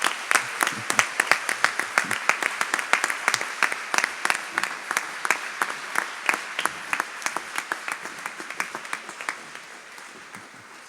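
A crowd applauds the Radio Maria France staff in a dense run of sharp overlapping hand claps, steady for several seconds, then thinning and fading toward the end, with faint voices beneath.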